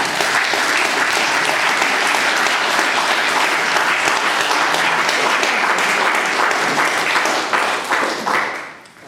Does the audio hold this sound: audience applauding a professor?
yes